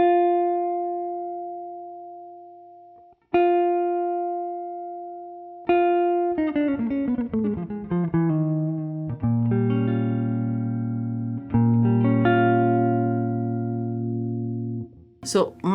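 Ibanez GB10 George Benson hollow-body jazz electric guitar played clean while testing the tone control, with two single ringing notes, then a quick run into sustained warm chords, near and alone.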